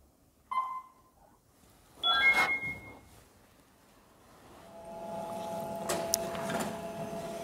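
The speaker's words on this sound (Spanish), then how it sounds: "Vamos a imprimir ahora el informe del InBody." Printer printing an InBody body composition report in a clinic: a short beep, a whirring burst as it starts, then a rising steady mechanical hum with feed clicks, fairly close and without talk.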